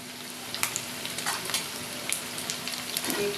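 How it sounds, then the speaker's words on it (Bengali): Batter-coated egg chops frying in hot oil, a close, steady sizzle with scattered pops and a few light utensil clicks. "দেখুন বন্ধুরা আমার চপগুলো কিন্তু এবার ভাজা হয়ে গেছে।"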